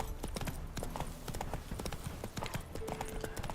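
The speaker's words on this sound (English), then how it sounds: "Yep, Roach is safe. I mean, the horse Roach" In the video game The Witcher 3, a horse's hooves clip-clop in a brisk, regular rhythm, close and prominent throughout, over a layer of game ambience.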